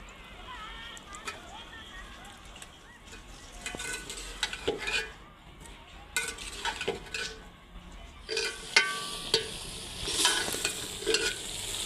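Vegetables tipped into a pan of cooked masala and stirred, a metal spoon scraping and clinking against the pan over a soft sizzle, with occasional louder knocks and a voice speaking at times.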